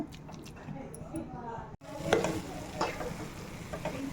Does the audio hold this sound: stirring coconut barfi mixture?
yes